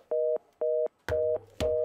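Telephone left off the hook sounding a repeating busy tone, four steady beeps in an even on-off rhythm, loud and close, with a low hum in the background.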